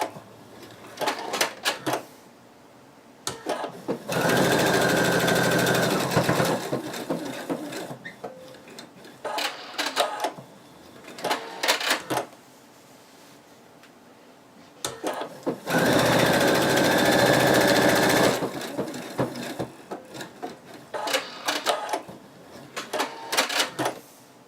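A sewing machine stitches fleece fabric for a plush toy in two sustained bursts of rapid mechanical whirring, each lasting a few seconds, separated by quieter clicks and handling noises.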